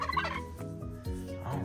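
A turkey's rapid gobbling plays as a toy farm animal sound for a wooden Montessori farm set, a short burst of loud warbling gobbles heard close with no talking.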